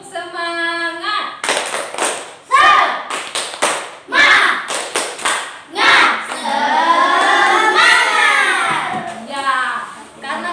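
A classroom of children in Indonesia does the 'tepuk semangat' cheer, with sharp rhythmic claps under loud chanted voices that run in quick bursts and then hold a longer sung stretch.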